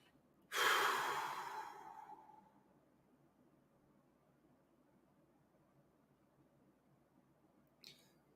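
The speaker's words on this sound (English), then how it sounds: "close our eyes, take a couple breaths" A single deep, audible breath is drawn in and slowly released by a person resting with eyes closed, near and soft, followed by a long quiet stretch and a faint short breath at the end.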